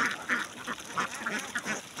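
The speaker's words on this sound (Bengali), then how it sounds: "দেখুন তার হাঁস, 300 হাঁসে প্রত্যেক দিন 150 করে ডিম দেয়।" A flock of ducks grazing in a field quack repeatedly in short, overlapping bursts at a moderate distance, with no talk over them.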